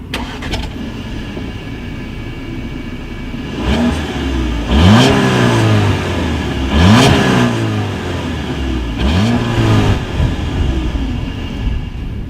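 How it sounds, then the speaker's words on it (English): 2019 Audi A4 with dual chrome-tipped exhausts, revved three times in succession. Each loud rise and fall of engine pitch is heard up close over a steady idle, with no talking. "As always, here is that exhaust clip."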